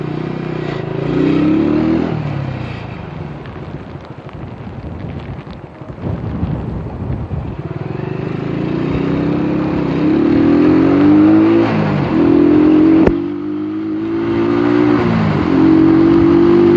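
Road traffic at night heard from a moving motorcycle, engine revving and rising in pitch through several gear changes, with steady wind rush across the microphone and nearby vehicles passing.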